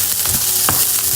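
Chopped beans, carrots and peas sautéing in a pan, a steady loud sizzle broken by a few quick stirring scrapes, close up and without speech.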